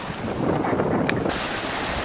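Wind and waves surround a sailboat cruising in 17 to 18 knots of wind, a dense broadband rush of gusts buffeting the microphone and water hissing along the hull, steady and loud for a couple of seconds.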